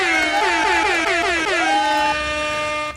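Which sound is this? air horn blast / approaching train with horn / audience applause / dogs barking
air horn blast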